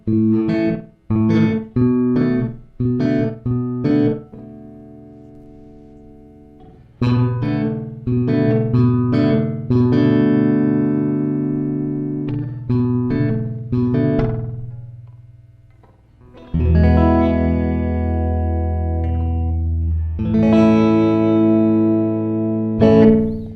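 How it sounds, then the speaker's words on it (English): Electric guitar through a JHS Lucky Cat delay pedal set to a very fast slapback, bursts of strummed chords and picked notes with near-instant repeats, separated by brief pauses, close and clear without speech. "such a slapback kind of delay that it's like almost instantaneous"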